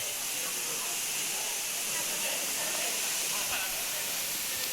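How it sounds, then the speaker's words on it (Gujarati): A forest stream in hilly monsoon country in Maharashtra rushes past with a steady, broad hiss of flowing water, constant and fairly close, with no clear breaks. "તમે ઝરણું જોવો એક વખત મિત્રો"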